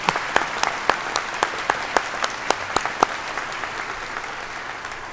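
An audience at a university convocation applauds steadily, dense clapping at moderate distance with a few sharper individual claps standing out, fading slightly toward the end.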